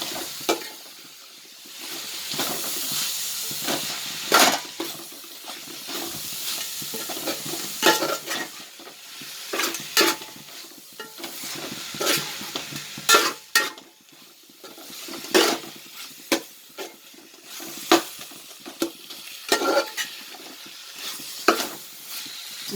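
Coriander and mint leaves sautéing in a pot for cumin samba mutton biryani, a steady low sizzle broken by repeated scraping and clinking of a stirring spoon against the metal pan, close and alone with no voices.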